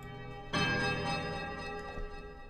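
A peculiar chiming temple bell in ruins in the game Pillars of Eternity is struck once, a bright metallic onset followed by a rich ringing decay, moderately quiet and alone.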